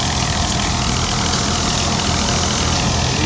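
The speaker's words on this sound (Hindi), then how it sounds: "गंदम की गहाई हो रही है।" A wheat threshing machine runs outdoors in strong wind, a loud steady engine drone with a constant rumbling, whirring texture that holds unchanged throughout.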